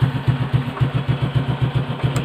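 A motorcycle engine idles while warming up, a close, loud, steady, rhythmic putter with even pulses throughout.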